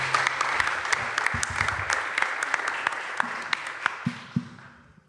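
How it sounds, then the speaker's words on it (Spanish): Audience applause fills a book presentation event, a dense spread of clapping from a room of people that gradually thins and fades out over several seconds. "David Pizarro, un aplauso para él."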